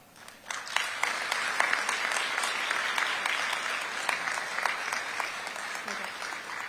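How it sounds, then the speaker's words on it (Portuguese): Warm applause from guests fills a hall at the opening ceremony of a ministerial forum in Macau, dense steady clapping rising quickly and sustaining, close and loud. "Vamos com fortes aplausos dar as calorosas boas-vindas a todos os convidados de honra"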